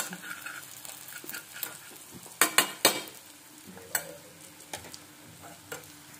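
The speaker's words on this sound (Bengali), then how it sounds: "একটু ভালো করে নাড়ানো চালন করে নিলাম" Spoon scraping and stirring through a butter, garlic and egg mixture in a sizzling pan, with a steady soft fry underneath and a cluster of sharper scrapes midway, close and with no talking.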